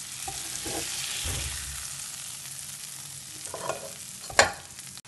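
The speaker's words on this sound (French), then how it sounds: "j'ai mis tout dans la poêle et je laisse dégorger" Seafood and rice fry with a steady sizzle in a pan while being stirred, scraping and clinking now and then, with a sharper clatter near the end; no talk.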